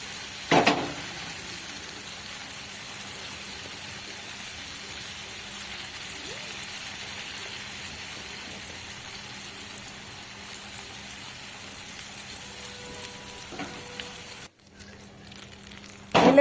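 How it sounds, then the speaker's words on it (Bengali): Pizza batter poured into a hot pan hits with a sudden burst, then settles into a continuous even sizzle that drops away abruptly near the end. "যতটা দেখো আমি ব্যাটারটা বানিয়ে নিয়েছি, পুরোটাই আমি এখানে ঢেলে দিচ্ছি।"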